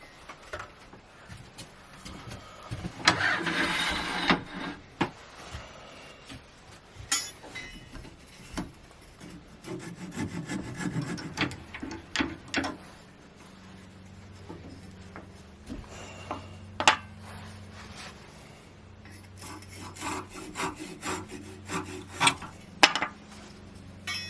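A hand saw cuts through wood on a small turned Christmas ornament, the rasping strokes irregular and fairly close, with scraping and shuffling between bursts and no talking.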